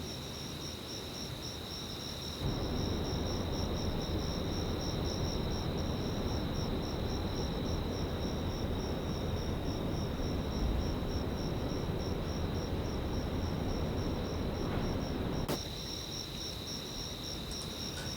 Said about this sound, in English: Okay, these are actually crickets.